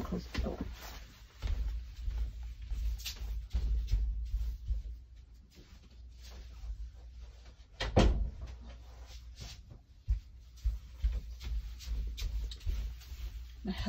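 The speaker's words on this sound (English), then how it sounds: "I've got to close the door." A door in a home is pushed shut, giving a single solid thud partway through over steady low background rumble, with faint household sounds and voices around it.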